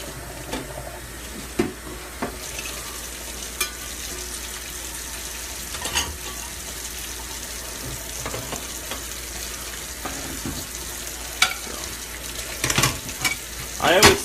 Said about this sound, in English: I kind of put it all in one of the sinks while I clean the dishes in the other sink